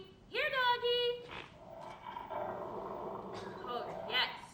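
A dog gives a sharp whining bark followed by low growling and rumbling vocalizations, moderately close, with another short yelp near the end.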